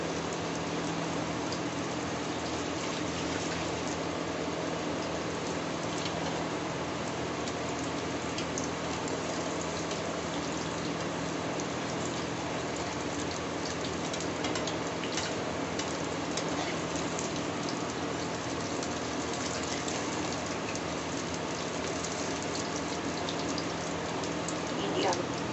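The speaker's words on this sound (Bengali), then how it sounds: "দুটো একসাথে ভেজে নিচ্ছি।" Fish and chips fry together in hot oil, a dense, steady sizzling hiss that continues unbroken at an even level throughout, close and prominent.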